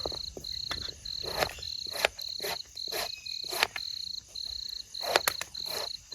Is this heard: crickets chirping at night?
yes